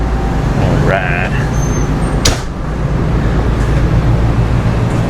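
A restored, previously wrecked Winnebago RV rolls along the road, its steady low engine and road rumble running throughout, with brief clicks and a faint rising whine early on.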